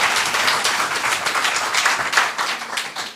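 A theater audience at a local comedy show in Thuin, Belgium, bursts into dense, continuous applause, many hands clapping close together with no voices over it.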